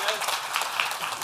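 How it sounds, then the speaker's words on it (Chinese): Sparse, scattered applause from a live audience at a stand-up comedy roast for programmers: a thin patter of a few hands clapping, fairly close, with no clear rhythm. "稀稀拉拉的掌声"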